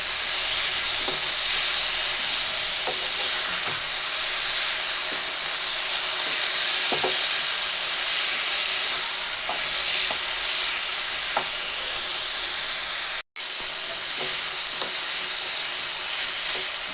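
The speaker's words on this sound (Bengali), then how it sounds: "ঝিঙেটাকে দু তিন মিনিট মতো নেড়ে চেড়ে নিয়েছি" Ridge gourd stirred and frying in a pan with salt and a pinch of turmeric, giving a steady close sizzle broken by soft periodic scrapes of the spatula, with one brief dropout near the end.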